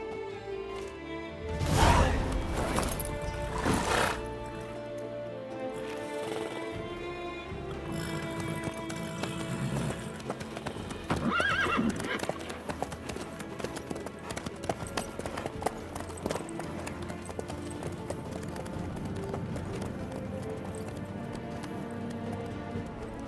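Horse hooves clip-clopping at a steady trot in The Witcher 3, with occasional louder bursts and a brief whinny near the start, carrying on continuously under faint in-game voices.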